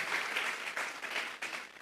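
A church congregation claps as an offering of applause during a Spanish-language sermon, a short, brisk burst of dense clapping that swells and dips slightly, with no voices over it.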